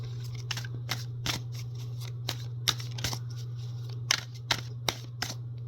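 Tarot cards being shuffled by hand, a series of crisp separate riffling snaps at an uneven rhythm, close and fairly clear over a constant low electrical hum, with no talking.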